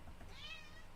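A single cat meows once, a drawn-out, rising and falling cry with clear harmonics, heard fairly close over a low, steady indoor hum and alone without talk.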